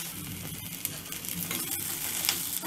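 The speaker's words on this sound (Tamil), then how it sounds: "இப்போ வெங்காயம் இந்த அளவுக்கு வதங்கணும்." Chopped onions sauté in a hot pan for a tomato gravy, giving a steady, close crackling sizzle with light stirring scrapes throughout and no talking.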